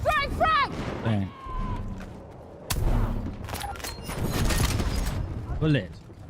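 A frag grenade blows up in a multiplayer shooter game, a sharp loud blast with a rumbling tail amid scattered gunfire, after a voice shouts a warning.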